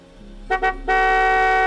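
A car horn honks twice in short taps, then holds one long continuous blast, loud and close.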